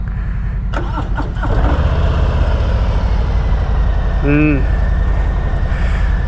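A 2022 Harley-Davidson Street Bob with the Milwaukee-Eight 114 V-twin idles close by in a steady, deep, loping rumble, swelling slightly after the first second, with a brief higher chirp partway through.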